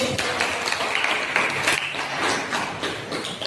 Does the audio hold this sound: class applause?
yes